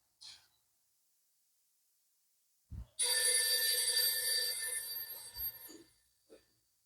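A telephone bell rings loudly and continuously for about three seconds, preceded by a short click and followed by a brief thump, at a railway drawbridge operator's post.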